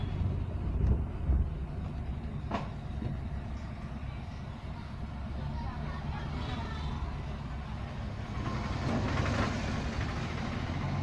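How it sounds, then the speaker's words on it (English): Maruti Swift VDI AMT diesel engine revving in Pune city traffic, a steady low droning hum from inside the car with rising engine tone as it holds revs, road noise and passing traffic underneath, while someone talks. "You can hear the revs."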